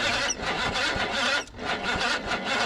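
Fire-damaged car engine cranking over repeatedly with a rhythmic grinding starter pulse, loud and close, a couple of brief dips between cranking bursts.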